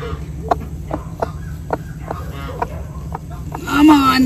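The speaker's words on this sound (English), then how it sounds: "It's my broody hen right now." A broody Cochin hen clucks in a steady series of short, close clucks at a regular rhythm, ending in a louder squawk-like call at the close.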